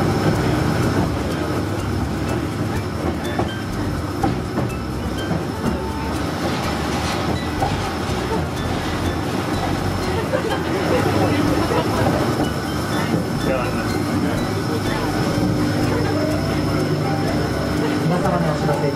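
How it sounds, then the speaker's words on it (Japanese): Electric Railway train at Tokyo DisneySea running steadily throughout, with a continuous rumble and rail clatter under an onboard announcement voice. "DisneySea エレクトリックレールウェイをご利用いただきありがとうございます。"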